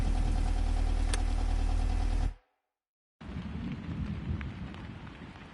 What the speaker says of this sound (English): When we have a storm coming?